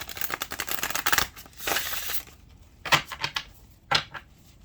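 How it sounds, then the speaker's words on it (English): Papery riffling and flicking of cards in short bursts, close and fairly crisp, with quiet gaps between shuffles. "they're a little hard to shuffle, but we will get them shuffled"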